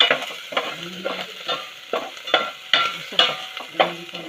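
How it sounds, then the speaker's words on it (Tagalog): Garlic sautéing in a pan for pinapaitan, with a utensil stirring and scraping in a steady rhythm of short strokes over a soft, constant sizzle, close and clear. "Gigisa na. Lagay na yung bawang."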